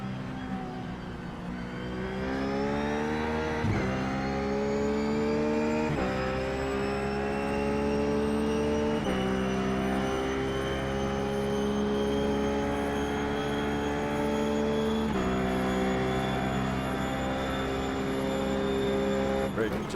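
A Ruf GT3 race car driven hard around Bathurst in iRacing, its engine droning loud and steady with rising revs and several sharp gear-change drops.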